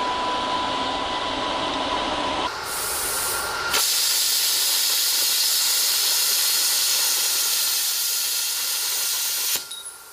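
A Thermal Dynamics Cutmaster 60i plasma cutter slicing through eighth-inch stainless steel gives a loud, steady hissing roar that shifts in tone partway through and cuts off near the end, with no talking.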